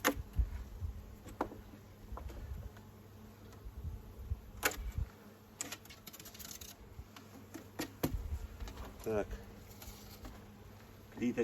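Honeybees buzz steadily around a hive just after a swarm was shaken in, a low, continuous hum, with scattered clicks and knocks from handling nearby.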